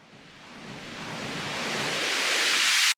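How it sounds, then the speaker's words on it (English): A noise riser sound effect: a broad hiss that swells steadily louder and brighter over about three seconds, then cuts off abruptly. "a riser is a sound that gradually gets louder over time"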